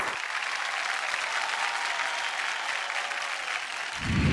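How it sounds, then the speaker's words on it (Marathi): A crowd applauds steadily and loudly for several seconds, a dense wash of clapping that swells slightly toward the end. "एकदा जोरदार टाळ्या होऊन जाऊ दे."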